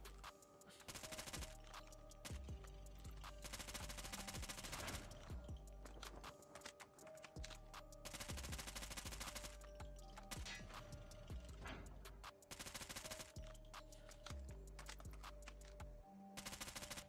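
Rapid automatic fire from an AS Val rifle in Call of Duty Mobile, loud sustained bursts of clattering shots repeating in rhythmic volleys with brief gaps, game effects layered throughout.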